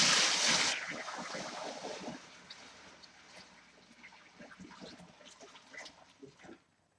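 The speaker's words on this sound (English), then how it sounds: "Now I'm just going to top that up with cold water." Cold water pours into a home brew fermenter for a smoky dark ale, with a loud gushing rush at the start that settles into steady, close splashing and trickling for several seconds.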